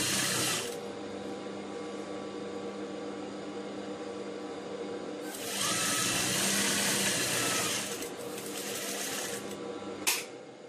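A sewing machine stitches fabric for an abaya in close, loud bursts: a brief run, a pause with a low background hum, then longer buzzing runs of rapid mechanical whirring, ending with a short final burst.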